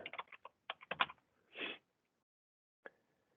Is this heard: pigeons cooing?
no